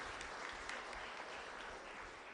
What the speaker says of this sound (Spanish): Un fuerte aplauso para José.